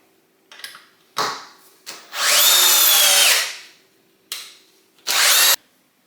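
A Ridgid compact drill on high with a 2 amp hour battery drives a 5/16 by 4 inch GRK screw in one loud, steady whine of nearly two seconds, set between short bursts of trigger and handling noise.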